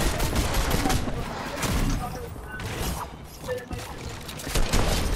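Rapid bursts of gunfire crackle through a Fortnite match, dense and continuous with several louder volleys, while players talk over the shooting.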